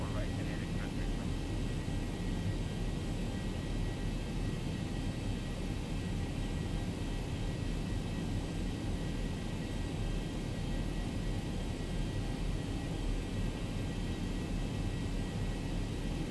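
Airliner engines roaring on takeoff in the X-Plane 11 flight simulator, a steady, loud, broadband jet rumble and hiss that holds evenly throughout without a break.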